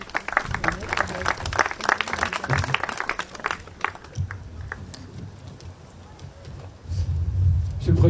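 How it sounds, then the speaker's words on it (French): Applause from the crowd at a Guadeloupe freedom memorial ceremony greeting the regional prefect, a steady wash of clapping under a lively room, tapering off midway before low murmuring and voices return. "qu'on applaudit très fort."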